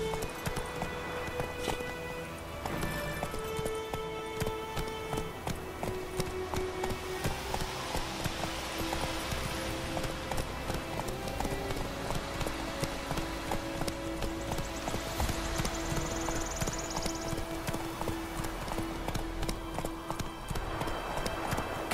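Horse hooves clip-clop in a steady galloping rhythm throughout The Witcher 3, layered over continuous game music and ambience, with a faint voice briefly audible.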